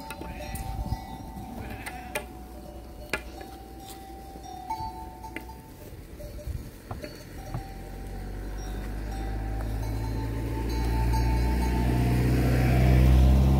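A car climbs a mountain road near Muntele Mic, its engine rumble growing steadily louder as it approaches, while a large flock of sheep bleats intermittently nearby.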